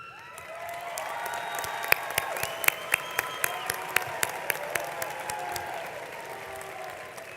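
A crowd at a high school graduation ceremony applauds steadily, with some cheering and a string of sharp, louder claps nearby cutting through the broad clapping.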